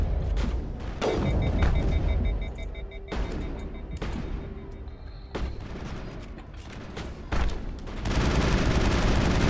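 Weapon fire in the video game Mass Effect: heavy booming shots at irregular intervals with mechanical clanks between, ending in a sustained loud barrage.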